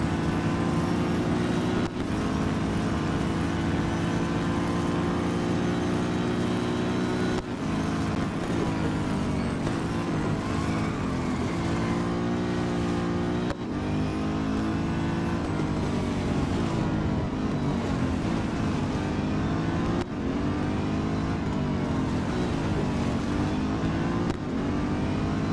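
A race car engine in the video game Real Racing 3 drones loudly and continuously around the Interlagos circuit, its pitch rising and dipping with gear changes and throttle, with no talk over it.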